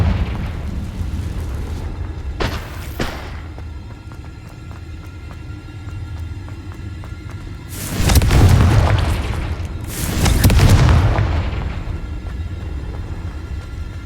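Confringo spell explosions in the game Hogwarts Legacy, two heavy booming blasts several seconds apart, loud and close, after a couple of sharp snapping casts over a low steady ambient hum.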